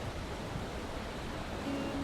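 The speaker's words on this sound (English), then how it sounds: "Just the sound of the river the whole time" Continuous faint rush of a river flowing near a mine, a soft, even broadband hiss with no distinct events and no speech.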